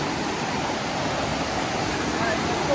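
Steady broadband rush of a river at a hiking-trail crossing near the waterfalls of Franconia Ridge, New Hampshire, loud and continuous without break, with voices faintly mixed into the flow.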